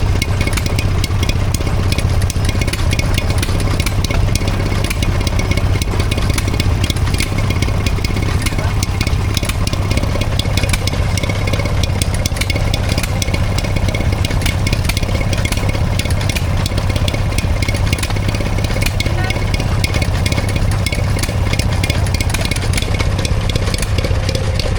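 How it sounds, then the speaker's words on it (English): A Stuart Turner P6 two-stroke engine drives a Stuart pump at a country show near Ringmer, Sussex, running with a steady, continuous mechanical chugging drone among faint outdoor crowd noise. "we see a Stuart Turner P6 and it's driving a Stuart pump. It's a 2-stroke by the looks of things."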